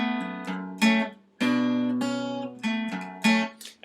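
An acoustic guitar plays a short picked and strummed part from a song twice in a row, with ringing plucked notes and crisp strum accents, close and clear.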